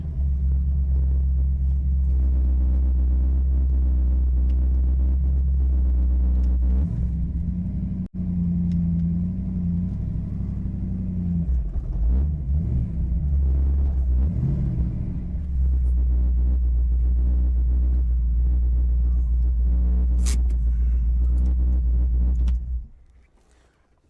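A 1966 Shelby GT350 convertible replica engine rumbles deep and steady while driving, continuous and close, with slight shifts in pitch before cutting out near the end.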